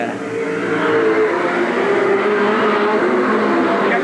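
Race cars roar around the oval at Eugene Speedway in 1987, a loud, continuous engine drone with steady pitch from a close pack of cars.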